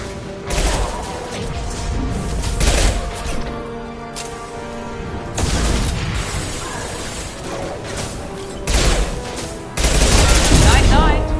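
Rapid bursts of weapon fire in Mass Effect 2 combat, loud and near, arriving in several clusters over a dense mechanical battle din, with voices heard amid the shooting.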